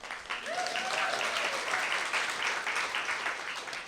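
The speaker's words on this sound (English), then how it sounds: "Can we give her a big clap?" An audience claps at an International Women's Day cycling event, dense and sustained applause from a crowd, with a brief whistle or cheer rising over it early on.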